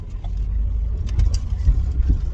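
A 2015 Ford Focus SE with a 2.0 automatic rolls over a rough road, its low engine rumble mixed with bumps, faint rattles and thuds from the uneven surface.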